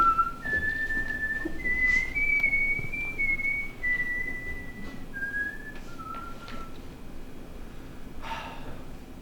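A single person whistles a slow, wavering melody of sustained notes close up, with breathy pauses and a short gasp near the end.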